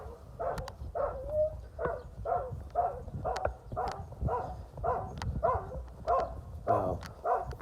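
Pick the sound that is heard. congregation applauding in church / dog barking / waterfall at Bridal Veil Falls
dog barking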